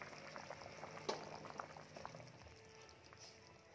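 Malvani-style chicken curry bubbling in a pot, a soft continuous simmer with irregular pops and gurgles, close and faint.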